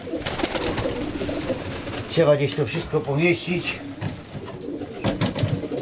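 Racing pigeons in a crowded loft of over 80 birds, Fabry and Janssen strains, give low rolling coos close by, repeated through the clip beneath someone talking.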